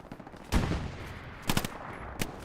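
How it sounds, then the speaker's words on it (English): Warning shots ring out in PUBG Battlegrounds: three separate bursts of gunfire, a short volley first, then a tighter cluster of quick shots, then a final single crack, all fairly close against a quiet background. "Firing a few warning shots to the Blueberries."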